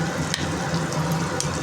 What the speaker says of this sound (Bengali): দেখো কড়াইতেই ভালো করে আমি মশলার সাথে ভালো করে নিচ্ছি। ভালো করে এটাকে ভাজতে হবে।